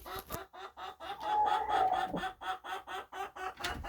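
A hen clucks repeatedly in a quick pulsing rhythm at evening roosting time, with a drawn-out tonal cackle in the middle, fairly close and without any talking.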